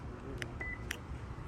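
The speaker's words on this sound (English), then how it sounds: "when you arm the alarm like this" Car alarm on a 2018–2022 Honda Accord arming, two short faint chirps about half a second apart with a brief tone between, over a low background hum.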